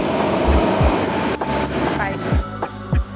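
Train in Beijing, a rumbling rail carriage with rhythmic low thumps of wheels over track joints and a steady whooshing ventilation hiss, close and moderately loud.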